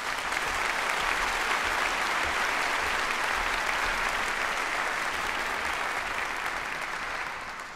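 A large audience at a university postgraduate graduation applauds the graduates with a full, even roar of clapping that holds steady and fades slightly near the end.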